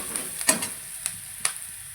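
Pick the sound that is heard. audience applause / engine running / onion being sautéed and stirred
onion being sautéed and stirred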